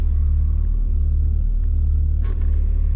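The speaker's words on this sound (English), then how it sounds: "that sounds to me like gear noise out of the transmission, at least at the input shaft, because we're just in neutral right now" A 1982 BMW E21 320is with 220,000 miles idles in neutral while its gearbox input shaft gives a constant low droning rumble and mechanical gear whine, heard close and loud inside the car.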